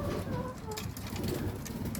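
Racing pigeons cooing softly at a loft, low murmuring coos repeating under faint background noise, fairly quiet and close.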